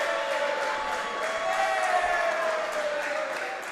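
Crowd at a Vixens Wrestling Revolution women's pro wrestling match cheers and roars steadily behind a wrestler, with a continuous wash of noise and scattered shouts.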